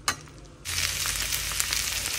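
Carrot and potato pieces fry in a pan. After a short quiet start, a steady close sizzle begins and continues without talk.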